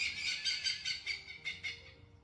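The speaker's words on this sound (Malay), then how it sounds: "Burung, bunyi burung." Birds chirping in a quick run of bright, repeated tweets, fairly close and clear, played as a sound clip in a guessing game, with no voices over it.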